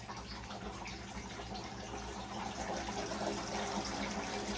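Water pours into a potted aglaonema plant in a warm indoor plant room: a soft, steady trickling gush that grows slightly fuller, quiet and close with no speech.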